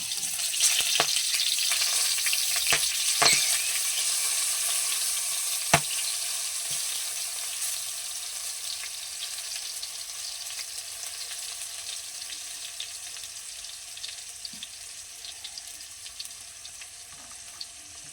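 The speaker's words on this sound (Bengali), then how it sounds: "এবারে ভাজবো কাঁচা লঙ্কা কাঁচা লঙ্কাগুলো ছ সাতটা মতন দিয়েছি হয়তো ছ কাঁচা লঙ্কা ভেজে নিতে হবে ভালো করে" Six or seven green chilies fry in hot oil in a pan, giving a steady, loud sizzling hiss with a few sharp spatters and pops, fading slightly over time.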